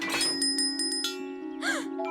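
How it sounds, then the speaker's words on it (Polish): A small hand bell rings in a cartoon, several quick bright dings in a row over a steady hum, then a brief animated vocal sound near the end. "mam szczęśliwy dzwonek Piotrusia"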